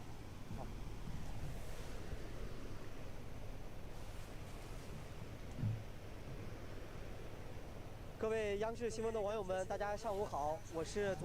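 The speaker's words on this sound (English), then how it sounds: "I am standing in front of the upper stream of the Yellow River, the Hukou Waterfall" Hukou Waterfall on the Yellow River during the spring peach blossom flood gives a steady, dense roar that fills the whole clip, with a person starting to talk over it near the end.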